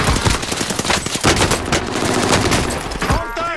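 Dense automatic gunfire and overlapping shots from a Call of Duty: Modern Warfare match, loud and nearly continuous, with brief bursts layered over one another and voices faintly mixed in.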